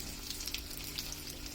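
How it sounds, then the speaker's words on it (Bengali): Marinated prawns fry in a little oil in a wok for Bengali chingri bhuna, giving a steady, close hiss of sizzling with small crackles and no voices. "এখন আমরা চিংড়ি মাছ যেগুলো মাখানো চিংড়ি সেগুলো ভেজে নেব।"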